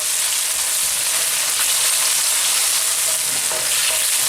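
Lamb pieces frying in a hot pan, a loud, continuous hiss and crackle of sizzling fat with no voices over it.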